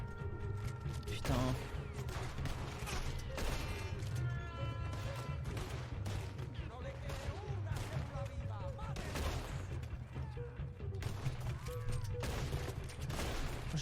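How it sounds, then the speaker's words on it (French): Bursts of video game gunfire crackle in rapid volleys alongside mechanical clatter, with a voice talking between and over the shots. "Je tire n'importe où là."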